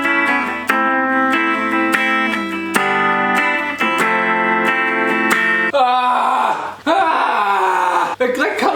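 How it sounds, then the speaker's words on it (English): Electric guitar plays the repeating outro chords of a song, bright and up close, turning into a rougher, more distorted passage near the end. "the outro is just going to be those chords played over and over"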